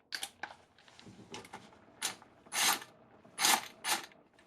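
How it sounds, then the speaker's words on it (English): An impact tool runs down cylinder head bolts on a 2008 Acura MDX engine, with several short whirring, rattling bursts separated by brief pauses, close and fairly loud, with no talk. "I'm going to run these bolts down gently until they touch."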